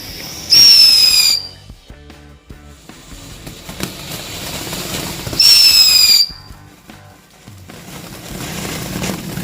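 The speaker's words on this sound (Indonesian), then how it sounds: "kita nyalain mercon air mancur blooming flower" A blooming-flower fountain firecracker lit for Eid celebrations sends out two loud, shrill whistling bursts about five seconds apart, with crackling and popping in between.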